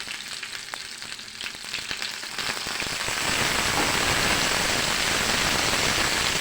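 Colored peppers, tomato and a small onion hitting a hot pan for chickpea shawarma, scattered crackles building into a loud, dense, steady sizzle, close up with no talk.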